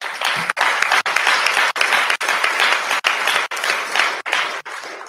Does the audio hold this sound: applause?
yes